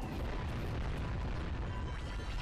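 A nest is smashed and destroyed in the video game Jak and Daxter, giving a dense, continuous rumbling burst of crashing and booming debris, loud and close throughout.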